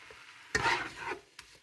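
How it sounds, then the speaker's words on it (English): Ground meat frying in a pan for a carnivore shepherd's pie is stirred once, a short close scrape over a light sizzle, followed by a faint tap. "So, I'm just going to give another stir."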